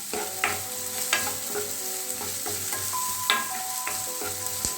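Two medium onions sautéing in hot oil in a home kitchen pan, a steady close sizzle broken by repeated scraping stirs of a utensil, with a low hum underneath.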